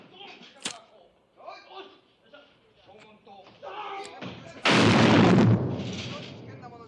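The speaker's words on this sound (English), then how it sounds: "This is our special baby rocket. It's very useful for people who smoke too many cigarettes like you." A cigarette rocket gun firing in a 1967 spy film scene, one loud, sudden whooshing blast that holds for about a second and then tails off, after spoken dialogue.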